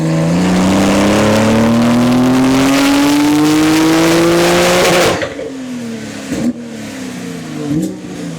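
A Porsche 911 Turbo S of the 992 generation with a bolt-on setup runs hard on a dyno, its engine note climbing steadily in a loud sustained rev for about five seconds before cutting off to lower idle with brief blips.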